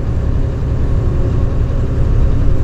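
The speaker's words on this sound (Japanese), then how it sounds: "また床下からエンジンの音" A night bus engine rumbles steadily from beneath the floor, a continuous low, even drone with no pauses or voices.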